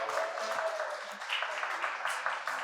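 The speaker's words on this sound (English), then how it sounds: "So round of applause for that" Audience applause at a museum artist talk, a steady wash of clapping from a seated crowd running the whole stretch at moderate level, with faint voices underneath.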